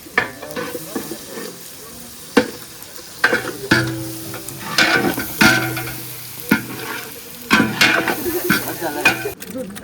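Tomato frying in a pan: a steady hissing sizzle broken by repeated scraping stirs that come in irregular bursts, with faint voices in the background.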